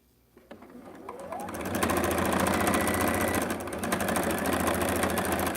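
A sewing machine stitches scrap fabric pieces, starting up and then running at a steady, loud, rapid mechanical rhythm close by.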